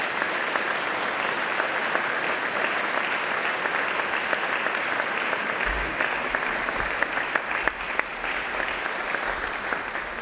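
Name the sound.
audience applause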